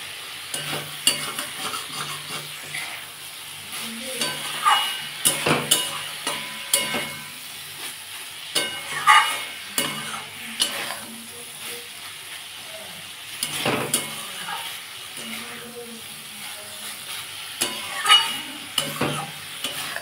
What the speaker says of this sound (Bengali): আমি এটা ভালো করে কষিয়ে নেব